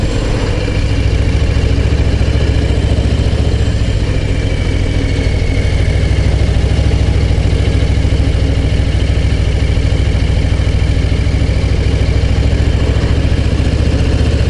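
A motorcycle engine idles steadily on a mountain road ride over Col de la Croix Fry near La Clusaz, a loud, close, continuous low rumble with no one speaking.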